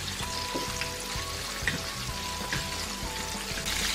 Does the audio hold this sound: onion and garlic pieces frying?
yes